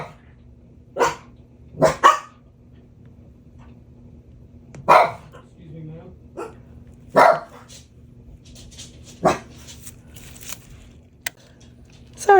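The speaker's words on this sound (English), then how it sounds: "My dogs are going nuts with those people out there." Dogs barking indoors at people outside, several sharp barks spaced irregularly with long quiet gaps and a low steady hum behind.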